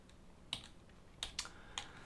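Sparse keystrokes on a computer keyboard while typing notes, four or five soft clicks scattered over a couple of seconds, close by and quiet, with no talking.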